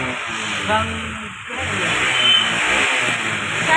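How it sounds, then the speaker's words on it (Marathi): A vehicle that broke down on the road runs at a garage. Its engine drones loud and close, swelling as it is revved. "गाडीचा आवाज बघा"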